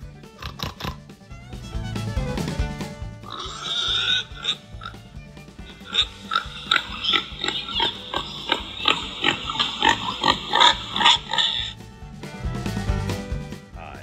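A farm pig oinks in a run of repeated, fairly loud grunts and snorts that come in quick bursts through the middle of the clip, with no talking.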